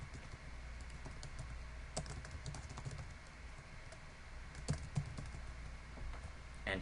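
Fingers tap out a short name on a computer keyboard in a quiet room, a steady run of light, close keystrokes with a few brief pauses and no talking.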